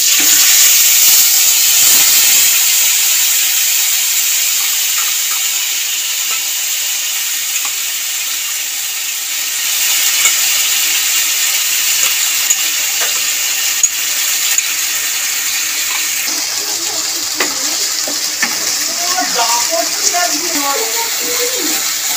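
Ginger, green chilli and tomato paste frying in a pan of tempered spices for an aloo paneer masala curry, a steady loud sizzle and hiss that settles and softens, with a few clinks of stirring and no talking.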